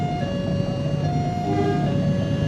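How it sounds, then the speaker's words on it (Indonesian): A train bound for Garut rumbles past a railway crossing in Limbangan, its steady rolling roar loud and close for the whole stretch, with a sustained horn-like tone running through it. "Kayaknya ini kereta yang ke Garut"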